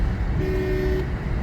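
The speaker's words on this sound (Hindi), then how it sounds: "हॉर्न यूज़ करते रहो" A single steady car horn toot, held for about half a second over constant road and engine noise, on a highway at about 80 km/h.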